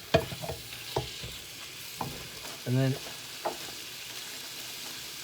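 Mince meat sizzles faintly in a pot with spices while being stirred, soft crackling broken by several scraping knocks of the spoon, with one short spoken word.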